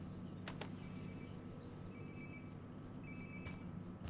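A mobile phone rings somewhere nearby inside the Life Is Strange: Before The Storm video game, its repeated high electronic trills sounding over a steady low ambient hum, with no talking.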